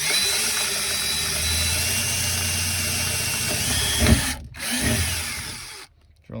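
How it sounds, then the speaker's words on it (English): A power drill bores a hole in a 1999-2003 Chevrolet Silverado Crew Cab for a speaker. Its close, loud, steady motor whine runs for several seconds, then stutters and stops in a couple of short bursts. "drill a nice straight hole."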